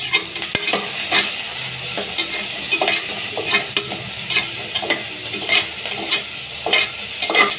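Chopped onion sautés in hot oil for veg biryani, a close, continuous frying sizzle broken by regular scraping strokes of a spatula against the pan.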